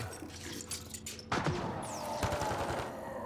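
Gunfire in Mass Effect Andromeda on the desert world Elaaden: scattered shots and a sharp, louder blast midway, followed by a busy burst of further firing, fairly close and without voices.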